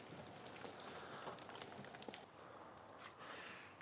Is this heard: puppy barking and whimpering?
no